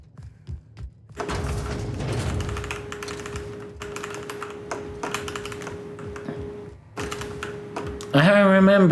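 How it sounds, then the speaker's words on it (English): Keys clatter in a quick run of typing in the video game The Outer Worlds, layered over a steady ambient hum and game sound, with a sudden louder tonal effect near the end. "Why are you typing, Herbie?"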